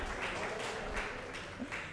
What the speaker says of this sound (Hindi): ज़ोरदार तालियां हमारे सर के लिए।